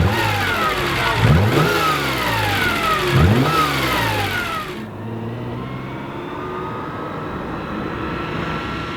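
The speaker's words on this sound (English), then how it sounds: "then the car fires right up and is ready to go" A Fiat Dino Spider engine revs hard with two rising sweeps, then drops back to a steady idle, close and loud with no talk over it.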